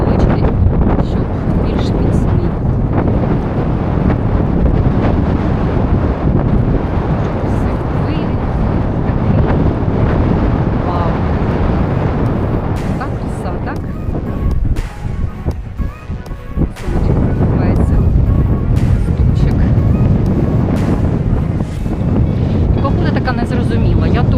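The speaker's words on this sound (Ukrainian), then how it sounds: "тут же вже вітер подув" Strong seaside wind at Langeron beach in Odesa buffets the microphone in rough, roaring gusts throughout, with faint talking mixed in beneath the blustery noise.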